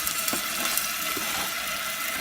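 Chopped medium white onion sizzling in a hot pan while making fresh tomato sauce, a steady, soft frying hiss with faint crackles, even and continuous throughout.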